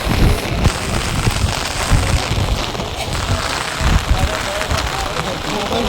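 Rain pouring down on a crowded outdoor spot, a dense, loud, steady hiss and patter with voices of people mixed in throughout.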